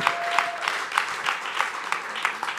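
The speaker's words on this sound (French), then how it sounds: "Bon, un tonnerre d'applaudissements pour Mirko Rocha, s'il vous plaît." Audience applause at a Swiss TV comedy talent show, steady dense clapping from a crowd with rhythmic bursts, moderately loud and continuous throughout.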